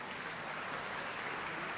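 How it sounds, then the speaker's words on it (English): Audience applause at a VVM event, a short burst of even, continuous clapping from a crowd, held at a steady moderate level without talk. "Let's give him a big round of applause."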